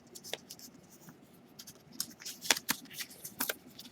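Paper creased and pressed while folding an origami bird: soft crinkles and scattered crisp snaps, a few sharper presses near the end, close and quiet with no talking.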